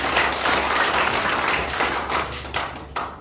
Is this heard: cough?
no